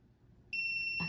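A handheld metal tester held against jewelry from a box of repurposed pieces gives off a steady, piercing electronic beep that starts abruptly halfway through and holds on, close and loud, over faint handling noise.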